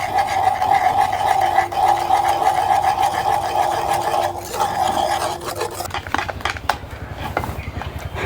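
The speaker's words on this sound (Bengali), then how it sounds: "এখন সবগুলো ভালো করে একসাথে মিশে নেব।" Cake batter of flour, eggs and powdered sugar being stirred and mixed in a bowl for a homemade cake, a steady scraping whir running continuously and close, ending in a stretch of irregular clinks and taps.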